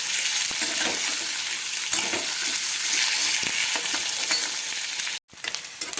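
Paneer frying in a pan until golden for matar paneer, loud steady sizzle and bubbling up close with occasional stirring scrapes, briefly cutting out near the end before resuming.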